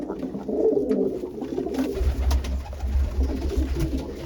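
Low, soft coos from a pair of pigeons in a cage repeat in a gentle rolling rhythm, close by, over a faint background hum.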